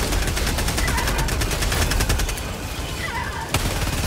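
Rapid automatic gunfire in Helldivers 2 against a Hulk, a dense rattling stream of shots that eases briefly before a final sharp burst.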